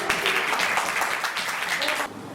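A church congregation claps together in a dense, lively burst of many hands that holds steady for about two seconds before cutting off abruptly.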